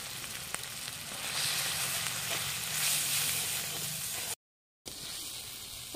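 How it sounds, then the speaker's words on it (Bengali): Ground spices such as coriander, cumin, chili and turmeric sizzle and fry steadily in a pan for a fish curry, a continuous close hiss with a brief dropout near the end. "পরিমাণ মতো মশলা দিয়ে মশলাটা কষে নিতে হবে"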